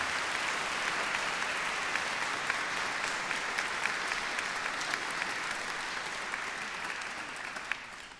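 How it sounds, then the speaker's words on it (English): A University of Chester graduation ceremony audience gives a sustained round of applause, a steady, even wash of many hands clapping at moderate volume that gradually eases toward the end. "can we begin by simply giving a round of applause to all the people who work for the University of Chester"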